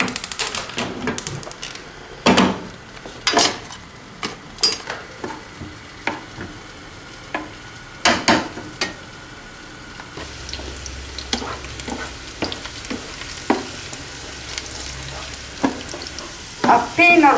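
Garlic pieces browning in a pan on the stove for orecchiette with turnip greens, with a steady sizzle broken by repeated sharp clacks of a utensil scraping and tapping the pan, close and fairly loud.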